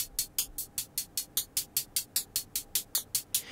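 A synthesized noise sample from the Arturia Pigments synthesizer repeats in short, evenly spaced hissy bursts, each with a sharp attack and quick decay, forming a steady hi-hat-like rhythm.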